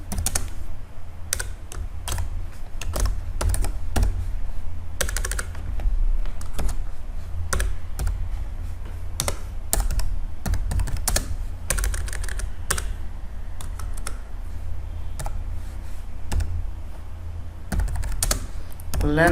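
Close, loud clatter of typing on a computer keyboard as C code is entered, with rapid bursts of keystrokes separated by short pauses and a person speaking at times.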